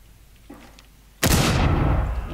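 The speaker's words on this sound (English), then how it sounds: "Big fucking explosion." A sudden, massive explosion in Rainbow Six Siege erupts after a short quiet stretch with a faint thump, its loud, wide roar sustaining to the end.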